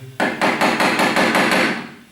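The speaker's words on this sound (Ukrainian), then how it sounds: "У цьому випадку можна використати ще і маленький молоточок для того, щоб кнопочка далі" A small hammer taps a pushpin into a wooden peg of a homemade wooden rattle, giving a rapid run of about eight sharp, close, evenly spaced knocks that fade slightly toward the end.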